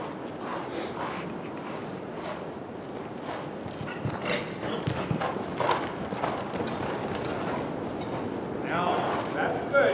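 A horse's hooves clip-clop steadily through a riding lesson over fences, with soft rhythmic thuds running throughout, a snort or two, and an instructor talking over the movement.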